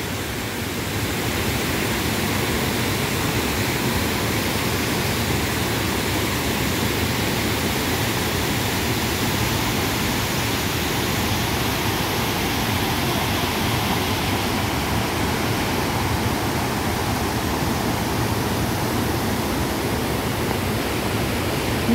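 A river flowing close by, a constant loud broadband rush of water that stays steady and unbroken for over twenty seconds with no voices over it.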